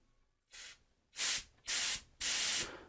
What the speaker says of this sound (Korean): 이 먼지 제거 스프레이를 이용을 하실 경우에는 흔들지 마시고 그 상태에서 그냥 눌러만 주시면 돼요